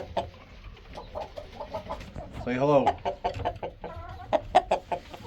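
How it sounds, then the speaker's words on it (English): A Rhode Island Red rooster clucks and makes throaty calls close by in a chicken coop, several short bursts, with a person talking over and between them. "our rooster, he's a Rhode Island red."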